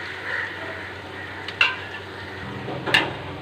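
Ground masala being stirred into sautéed onions in a pan for chicken kuruma, a low frying hiss with two sharp scrapes of the spoon against the pan, close and unaccompanied by talk.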